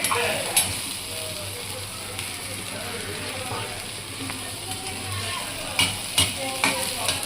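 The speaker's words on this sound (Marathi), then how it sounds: "अशी आपण परतवत आहोत, हलवत आहोत ही चवळीची उसळ।" Cowpea usal (chawli) is stirred and turned in a pan with a steady sizzling hiss, punctuated by a few sharp scrapes and clicks of the spoon against the pan, fairly close.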